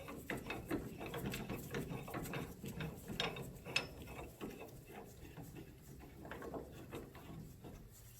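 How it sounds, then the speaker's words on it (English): Ratcheting clamp being tightened to press a ball joint on a 1997 Nissan pickup 2WD, giving a steady run of close mechanical clicks and rattles with a few louder clunks. "Then you can go ahead and snug your clamp up."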